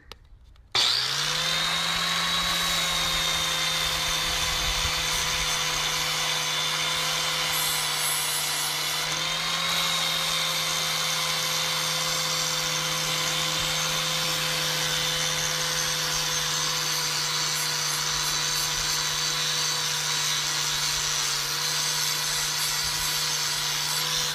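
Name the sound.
power tool with sanding flap disc sanding tables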